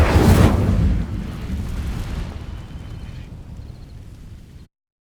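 A burst of flame from the Incendio fire spell igniting dry vines in Hogwarts Legacy: a loud whooshing roar at the start that settles into a lower crackling, rumbling burn before cutting off.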